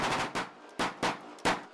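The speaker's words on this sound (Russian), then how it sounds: "боец должен успеть выстрелить по цели из автомата или пистолета" Gunfire from an assault rifle or pistol during a special forces building-assault test, five sharp, loud reports in an uneven rhythm, the first ones close together and the rest spaced apart.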